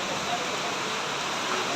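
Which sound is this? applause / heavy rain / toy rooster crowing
heavy rain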